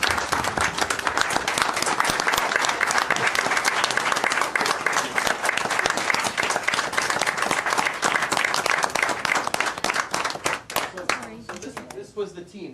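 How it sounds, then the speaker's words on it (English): Sustained, loud applause from an audience at a city council meeting, dense clapping continuing for about ten seconds before thinning out at the end. "Let's give them a round of applause"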